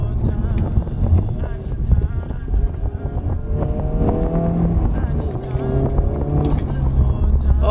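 A Honda Civic FL5 Type R driving on the road, with a steady engine drone and rising harmonic pitch sweeps as it accelerates through gears, joined by wind and road noise, a voice occasionally speaking over it.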